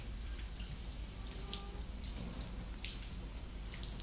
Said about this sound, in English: So I'll rinse off.